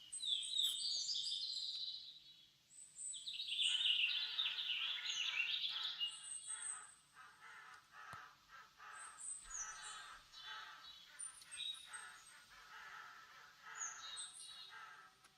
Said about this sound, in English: hear birds or crows.